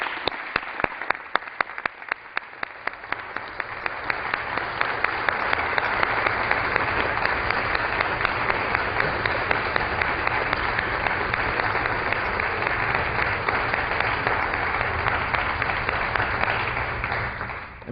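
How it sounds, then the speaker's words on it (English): Sustained applause fills a legislative chamber during a House session, steady and dense from many hands, building slightly and holding for the whole stretch. "I think we've consumed the entire 1 minute just applauding Trish, as it should be."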